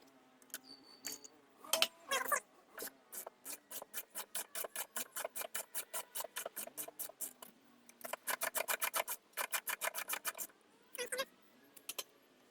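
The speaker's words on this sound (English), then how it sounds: "on the other side I'm going to use a 17mm box wrench. Oh boy, it's on tight." A 17mm box wrench works a tight bolt on the rear hub and knuckle of a 2008 Toyota RAV4, giving long runs of quick, even ratcheting clicks close by, with short pauses and a few louder knocks.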